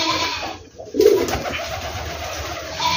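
Pigeons coo on a farm alongside cattle, goats and pigs, soft throaty calls close by over a low rustling background, with a short quiet gap before the cooing resumes.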